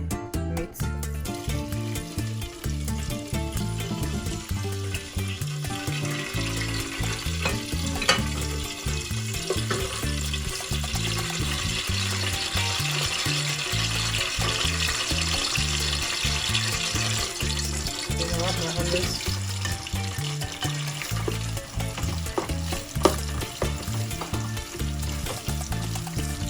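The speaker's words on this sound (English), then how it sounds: "So we're going to go ahead to fry the stew now." Onions fry in hot oil for a Nigerian beef stew, giving a steady, close crackling sizzle that runs throughout with occasional stirring.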